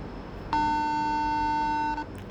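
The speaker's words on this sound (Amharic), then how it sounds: "እየጠራ ነው።" A single long electronic ringback tone sounds clearly for about a second and a half on an outgoing phone call, with quiet before and after.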